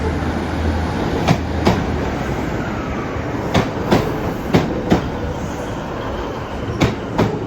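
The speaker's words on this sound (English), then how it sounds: "coming out now we have a class 156. Again, as you do. Bound for Newcastle." A Class 156 diesel unit pulls out of Carlisle bound for Newcastle, a loud, steady rumble with rhythmic clickety-clack wheel beats over rail joints as it passes close by.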